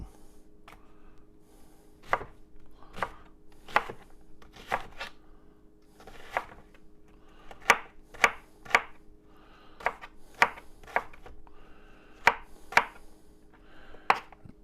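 A knife chops a Vidalia sweet onion on a board, sharp irregular knocks coming in quick bursts with short pauses, close and clear over a faint steady background hum.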